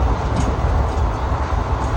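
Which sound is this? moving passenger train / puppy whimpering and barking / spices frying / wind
moving passenger train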